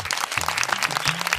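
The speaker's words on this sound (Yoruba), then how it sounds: "bẹ́ẹ̀ ni ẹ pàtẹ́wọ́" Brief burst of audience applause at an African children's game show, a short patter of clapping at moderate volume.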